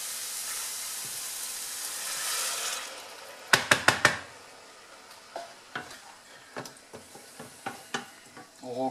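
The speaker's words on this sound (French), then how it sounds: "Et là je mets le bouillon de volaille." Chicken stock is poured into a hot pan of chicken, mushroom and curry, starting with a broad hiss, then sharp sizzling bursts and clattering stirring strokes, close and moderately loud.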